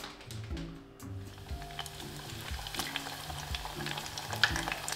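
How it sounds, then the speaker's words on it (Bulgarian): Churros fry in hot oil with a steady, close sizzle and crackle, with scattered pops and bubbling throughout. "Чуросите пишат, че трябва да ги пържим за 3-4 минути."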